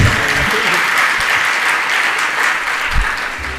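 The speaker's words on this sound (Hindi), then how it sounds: "एक बार ताली तो बजा दो।" An audience claps steadily at a Hindi spiritual discourse, a dense, fairly loud patter of hands that runs throughout, with a few faint voices mixed in.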